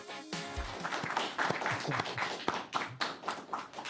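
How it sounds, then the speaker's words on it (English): A group of interns applauds inside a broadcast studio, with scattered claps and taps that start after a brief pause and carry on in uneven bursts at moderate level, and there is no clear talk. "all that applause that you hear in the background is we have a group of interns joining us in the studio today"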